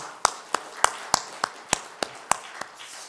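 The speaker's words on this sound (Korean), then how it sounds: "우리 다시 한번 하나님께 영광의 박수 올려드릴까요?" During a Friday church worship service, claps sound in an even, steady rhythm, with about ten sharp hand claps spaced roughly a third of a second apart and heard close and distinct.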